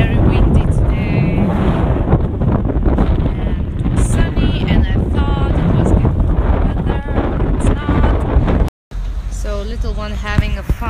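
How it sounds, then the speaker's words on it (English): Heavy wind buffeting the microphone produces a loud, constant low rumble throughout, with a brief dropout near the end and a voice faintly beneath. "It's very windy today."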